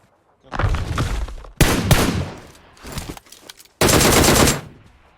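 Bursts of automatic gunfire in PUBG Mobile: three loud, dense volleys with short gaps between them, each a rapid rattling stream of shots at close range.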